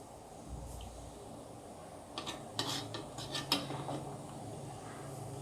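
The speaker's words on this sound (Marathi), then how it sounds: "अशा पद्धतीने आपण सर्व प्लेट्स ठेवून घेणार आहोत" Idli plates being set into a steamer pot, a few light metallic clinks and taps clustered near the middle, faint and close, with a quiet background and no talking.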